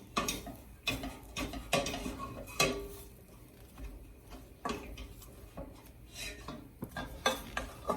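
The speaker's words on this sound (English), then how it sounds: "Just keep mixing." Tullumba dough for a Turkish dessert is mixed in a pot, giving repeated close scraping and knocking of a utensil against the metal in an uneven rhythm, with no talking.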